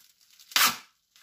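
Scotch tape tearing off a book package during an unboxing: a single short, sharp rip lasting under half a second, close and fairly loud, with faint rustling of packaging before it.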